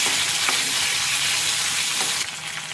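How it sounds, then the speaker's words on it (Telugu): Cumin seeds and chilies frying in oil in a pan for sesame chutney, a dense, close, continuous sizzle with slight stirring pulses, easing a little at the end. "అందులో 1 టీ స్పూన్ జీలకర్ర వేసి కొన్ని మిరపకాయలు వేసి వేయించుకోవాలి"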